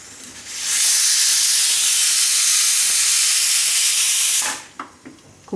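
Steam bursts from a pressure cooker used while preparing masoor lentil parathas in a home kitchen, a loud, steady hiss that starts abruptly, holds for about four seconds and cuts off, followed by a few faint clicks.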